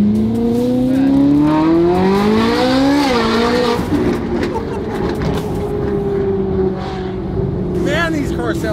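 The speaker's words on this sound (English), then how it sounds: "Man, these cars sound so good." A rebuilt flat-crank Ferrari engine revs hard during a burnout, its rising and falling howl loud and close alongside tire squeal, with people talking over it.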